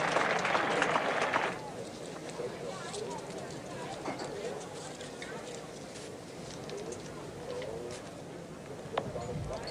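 Crowd cheering and applause at a 1974 Australia vs England cricket test match, a loud burst in the first second and a half that fades into a steady distant crowd murmur under commentary.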